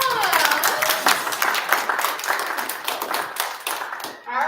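Clapping from the audience at a spelling bee, sharp distinct hand claps in a close, lively room that thin out toward the end, with some voices faintly beneath.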